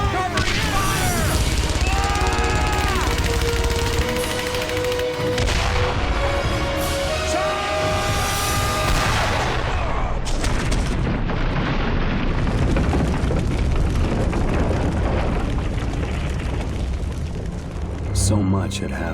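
Loud, dense video game battle din of gunfire and booming explosions with shouted voices over it, continuous for the whole stretch, thinning slightly toward the end.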